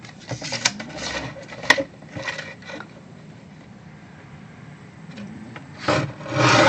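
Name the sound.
cutting cardstock for a fold card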